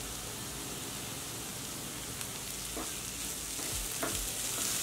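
Tomato and onion fry in a pan over a low flame, a steady close sizzle with faint stirring scrapes, no voices.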